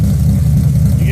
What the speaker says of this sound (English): This is just a startup when we were fucking around with it.